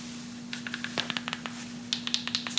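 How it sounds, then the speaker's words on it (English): Sharp clicks from pressing the buttons on an iPhone 13 fitted in a Poetic Spartan rugged case, a quiet scattered run of short taps close by, with a steady low hum beneath. "as can be attested by me clicking on the buttons, how loud you can hear them"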